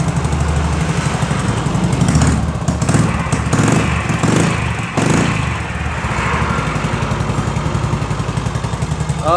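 Yamaha Mio J fuel-injected scooter engine starting and idling, a loud close rhythmic putter running steadily throughout with some mechanical clatter.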